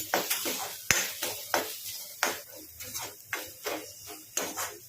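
Spoon scraping and tapping in a pan as ground cumin and black pepper powder are stirred together, a steady series of close, clinking strokes roughly every half second with no talking.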